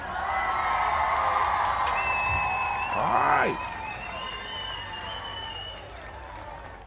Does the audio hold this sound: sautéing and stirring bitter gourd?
no